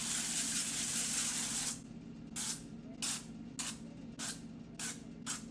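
Cooking grease sprays onto a small donut pan in one long continuous hiss, followed by a series of six or seven short, evenly spaced spray bursts, close by and fairly quiet.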